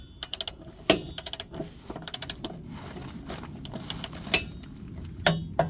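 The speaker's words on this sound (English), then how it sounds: "I've got my torque wrench set at 35 foot-pounds for this bolt." A torque wrench set to 35 foot-pounds tightens a bolt during an oil change, giving close, quiet ratcheting clicks in short irregular bursts with scattered knocks between them and no talk.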